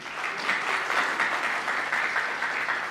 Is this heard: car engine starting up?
no